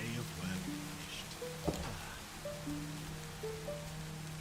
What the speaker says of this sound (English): So we have rain in the daytime